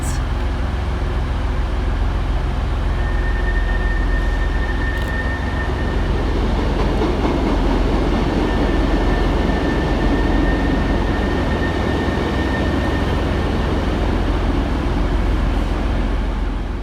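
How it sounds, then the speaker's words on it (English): Rush-hour passenger trains pass through Manchester Victoria station, including Northern diesel units, with a sustained heavy rumble of wheels and engines close by and a faint high whine, and no voices. "Passing next through the station under the head code 5 Foxtrot 43 from Newton Heath through to Manchester Oxford Road is 150101 and 156428."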